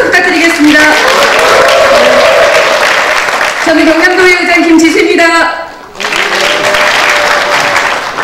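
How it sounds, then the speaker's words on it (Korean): Loud applause from a gathering of provincial councillors at a rally calling for decentralization, sustained clapping that dips briefly near the end, heard under someone speaking over a microphone. "여러분 큰 박수 부탁드리겠습니다"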